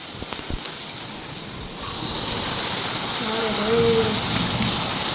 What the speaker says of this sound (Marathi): जोरात आलेला आहे पाऊस